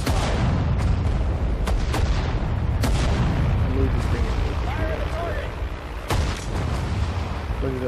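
Artillery recon fire rumbles through a Sudden Strike 4 battle, with several sharp booming blasts rising over a dense, continuous low roar of gunfire, and a voice talking on and off beneath it.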